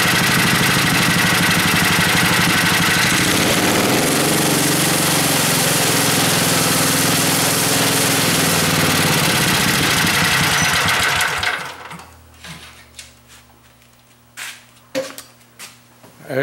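A John Deere 56 engine fitted with a new carburetor runs loud and steady for about eleven seconds, then cuts off. Quieter clicks and knocks follow.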